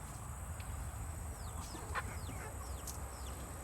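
Chickens in their coops on a hot, muggy day before rain give sparse, faint clucks beneath a loud, steady hiss of outdoor noise and insect buzz, with no one speaking.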